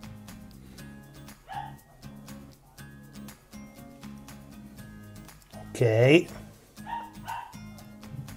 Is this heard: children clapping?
no